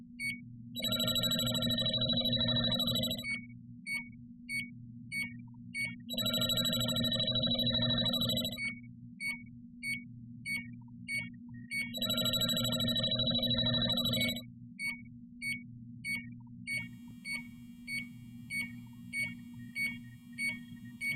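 A JB Industries LD5000 refrigerant leak detector emits rapid high-pitched alarm beeping in three long ringing bursts, with quieter intermittent chirps between them, over a low hum.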